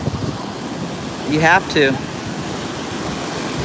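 Ocean surf at Cocoa Beach, a steady broad wash of waves and wind close by, with a brief spoken phrase cutting in over the noise near the middle.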